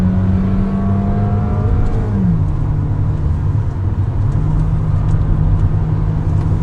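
A 2019 Honda HR-V Hybrid pulls away and accelerates, heard from inside as a loud, steady engine drone whose pitch rises, dips at a shift, then climbs again over a constant road rumble.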